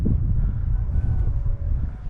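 Wind gusting across a mountaintop near a hilltop church, a steady low rumble buffeting the microphone throughout with no pauses.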